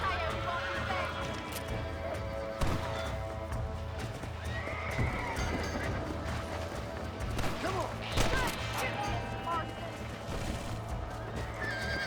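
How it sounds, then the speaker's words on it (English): A horse whinnies and its hooves clip-clop in the Western video game Red Dead Redemption, the neighs rising briefly above a steady galloping rhythm and game noise, with a player talking over parts. "It's very awkward being on this horse."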